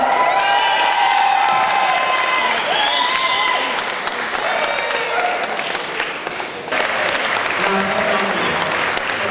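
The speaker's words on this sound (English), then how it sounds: "Let's give him a big round of applause." Sustained audience applause at an Irish Coffee Festival stage event in Ireland, 2002, a dense, steady clapping with some cheering and shouts that dips briefly mid-way and swells again, with faint voices mixed in.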